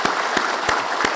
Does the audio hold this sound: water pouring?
no